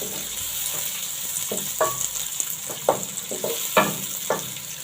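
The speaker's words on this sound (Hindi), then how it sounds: "इसमें प्याज शामिल कर देंगे, जो 3 अदद मैंने लिया था, और इसको हमने सौते कर लेना है" Onions sizzle and crackle as they sauté in a hot pan for beef curry, a steady frying hiss broken by scattered pops and stirring scrapes, close up with no voices.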